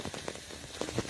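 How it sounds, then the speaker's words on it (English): Rain falling on surfaces in the Maldives, a dense patter of drops with a few sharper splashes standing out, steady and close with no one talking. "it's been raining a lot recently"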